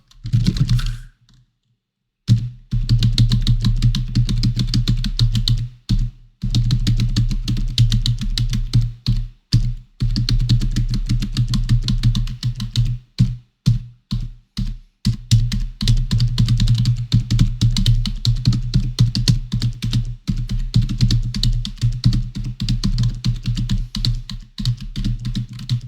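Computer keyboard pressed rapidly while playing Project Diva, dense rhythmic key clatter in bursts with short pauses, close and loud, no talking.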